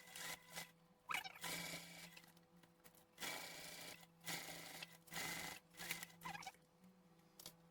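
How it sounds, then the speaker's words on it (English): A sewing machine top-stitches through the seam allowance and folded webbing of a convertible totepack in several short bursts of rapid mechanical chatter separated by brief pauses, quiet and close. "Top stitch the joint SA and the webbing folds with a 1/8 inch."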